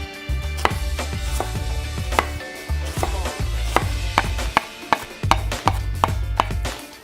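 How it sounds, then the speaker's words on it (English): A knife chops fresh garlic on a cutting board in quick, uneven bursts of sharp taps, close and clear, with a low hum underneath and no talking. "We'll cut that in half and start our chopping."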